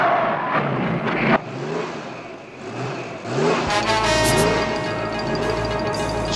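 A solar race car skids out of control during the Alternative 2000 race, with engine revving, tire noise and a rising whine under a busy, loud mix of vehicle sounds.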